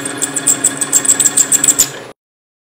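A wood lathe spins a bowl at around 550 RPM, giving a steady mechanical hum with a fine high whine and light rhythmic fluttering, then cutting off abruptly into silence.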